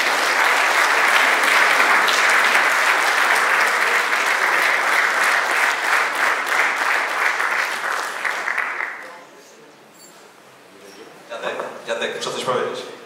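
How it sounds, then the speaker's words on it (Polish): A hall audience at the 100th jubilee of the Rybnik football subdistrict applauds the sponsors, loud sustained clapping for about nine seconds that cuts off, then brief murmuring and a short renewed patter with voices. "Wielkie brawa dla wszystkich sponsorów."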